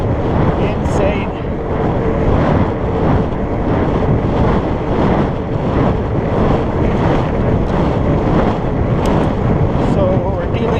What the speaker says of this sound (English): So we're dealing actually with pretty strong wind this morning coming out from the west